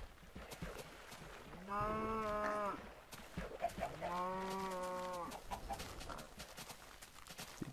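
Minecraft cows give two long, drawn-out moos a couple of seconds apart, set against soft background game noise and light footstep-like clatter.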